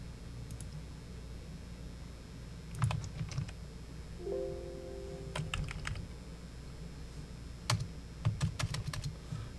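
Fingers type on a computer keyboard, producing scattered clusters of light, close clicks and key taps with short pauses between bursts over a steady low background hum, with no talking.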